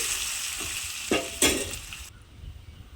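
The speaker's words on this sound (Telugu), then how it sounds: "ఇప్పుడైతే తిరగమాత వేసేసుకోవచ్చు సూపర్గా ఉంది" Hot tempering hits a moringa leaf, moong dal and flat bean curry, crackling and sizzling in short bursts with a couple of sharp pops before cutting off abruptly.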